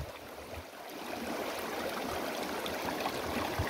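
River water flows steadily as a broad, rushing wash of noise, loud and close throughout, with no voices over it.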